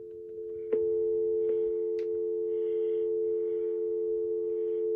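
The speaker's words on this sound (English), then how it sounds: "Let's go ahead and call the 8851, which is right here on the speed dial list." A Cisco IP phone places an outgoing call by speed dial. A steady electronic tone from the handset holds the whole time, with a few brief button clicks near the start and faint beeps layered on top.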